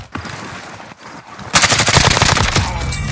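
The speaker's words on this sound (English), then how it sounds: "Taking shots here." Gunshots: scattered sharp bangs at first, then a dense rapid burst of automatic fire from about halfway on, loud and close.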